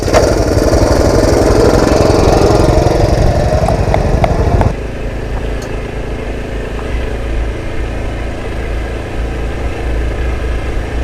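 A Honda CT110 postie motorcycle climbs a steep, stony hill, its engine revving loud and close for about five seconds before dropping sharply to a quieter, more distant running hum.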